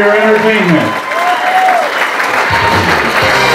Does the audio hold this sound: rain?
no